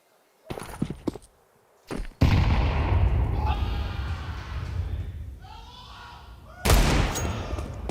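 Pistol gunfire from a Counter-Strike pro match at IEM Cologne 2025, loud bursts of shots and sharp cracks, with crowd-like noise and commentary-style voices running beneath.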